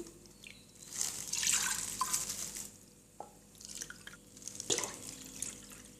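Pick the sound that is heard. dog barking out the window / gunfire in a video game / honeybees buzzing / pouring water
pouring water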